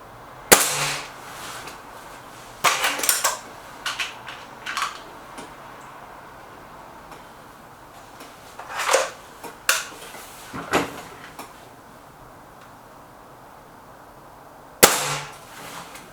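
Stoeger RX20 S2 air rifle fired with a suppressor, giving several sharp, muffled cracks spaced irregularly with quiet pauses and small mechanical handling sounds between shots.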